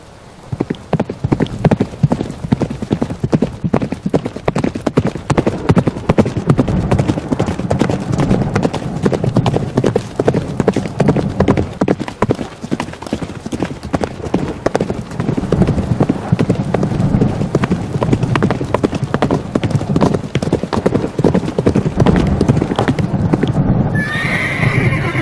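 Horses clip-clop steadily while being ridden toward a station, with continuous dense hoof beats and a whinny, a rain-soaked ride before flooding, loud and close throughout.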